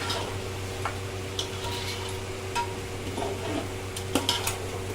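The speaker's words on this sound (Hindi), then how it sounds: "सबको बड़े अच्छे से मिक्स कर लेंगे।" Biryani ingredients with boiled potatoes and eggs are mixed in a pot, soft scraping and occasional light clinks of the spoon against metal over a quiet background hum.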